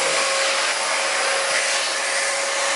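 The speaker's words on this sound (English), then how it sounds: "Can you turn off the vacuum, please?" Vacuum cleaner running at home to spin a gyro instrument, a steady loud whooshing drone with a constant whine, continuous and close with no pauses.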